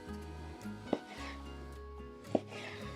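Knife cutting a beef steak into cubes on a board, two sharp distinct chops about a second and a half apart over a low steady background hum, quiet and close, no talking.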